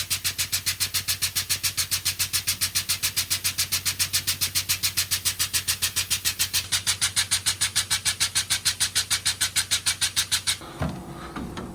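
A 20-ton vehicle lift raising slowly, giving a fast, even, rhythmic pulsing mechanical chug that runs steadily for about ten seconds before cutting off, leaving a brief clunk and low rumble.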